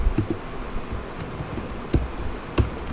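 Someone typing HTML code into Notepad on a computer keyboard: close, irregular key clicks with a few sharper, louder strikes scattered through a quiet room, and no talking.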